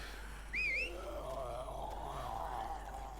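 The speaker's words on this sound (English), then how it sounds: "just let out a big wolf whistle" A single short, rising-and-falling wolf whistle in The Walking Dead video game, clear and close, followed by a low ambient hum.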